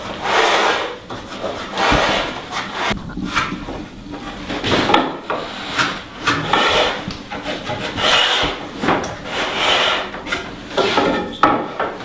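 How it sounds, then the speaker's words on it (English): A marking gauge scribes reference lines along the edge of a wooden window jamb, giving a steady series of close, dry rubbing and rasping strokes that repeat in short bursts with no talk. "strike a line, flip the gauge into the corner again, strike another line"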